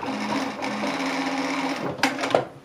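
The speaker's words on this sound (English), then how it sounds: "go along the long side edge and just stitch it on about 5 millimeter seam together" A sewing machine runs steadily, stitching a roughly 5 mm seam along the long side edge of a sleeve, its motor hum continuous before a couple of louder bumps near the end.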